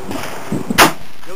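A single Mosin Nagant M38 rifle shot at an outdoor range, one loud sharp crack close by, heard once and alone over steady background hiss.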